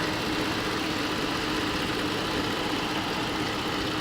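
A 2016 Chrysler 300C AWD with its 3.6 liter engine idling under an open hood, giving a steady, even hum with a low rumble that holds at a constant level throughout.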